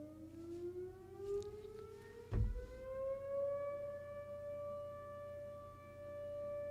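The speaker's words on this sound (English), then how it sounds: "It's just the 11 o'clock sirens that they do randomly with no schedule" An outdoor civil-defense warning siren sounding at 11 o'clock, a steady wail that slowly rises in pitch and holds, carrying loudly through open air with a brief thump partway through.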